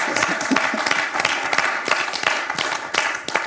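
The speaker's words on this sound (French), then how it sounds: "2 points pour Gabriel, qu'on peut applaudir." A TV quiz show studio audience claps after a contestant scores, a moderate crowd of hands with distinct individual claps audible in an uneven rhythm for a few seconds.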